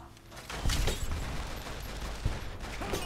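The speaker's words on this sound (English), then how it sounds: "What are they shooting at?" Gunfire in the video game Fallout New Vegas: a dense run of close, overlapping shots and impacts with repeated sharp bangs over a continuous noisy background, no talking.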